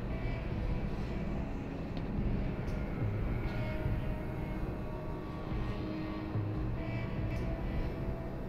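A Black Mesa transit train from the Half-Life video game gives a steady, continuous mechanical rumble with a deep low drone throughout and no voices.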